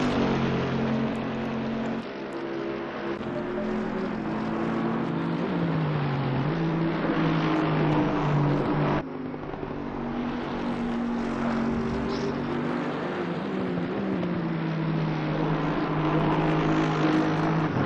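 An Audi R8 GT3 race car at Monza in a racing video game drones at high revs without a break, its engine note rising and falling through gear changes and sliding corners, loud and close.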